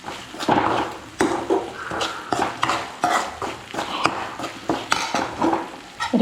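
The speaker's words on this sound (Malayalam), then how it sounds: "മുളക് പൊടിയും ഇട്ട് നന്നായൊന്ന് ഇളക്കാം." Chili powder being stirred into watermelon pickle in a metal pan, with a steady run of close scraping and clinking strokes of a spoon against the pan and a faint sizzle beneath.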